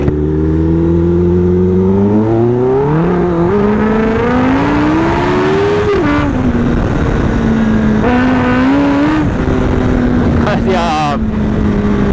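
A loud Kawasaki ZX-10R superbike engine revs up and holds high, its pitch rising and dipping repeatedly with stuttering cuts as traction control intervenes, close and continuous.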